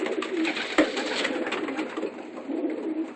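Young pigeons coo softly and continuously at close range, with overlapping low, throaty calls and no voices.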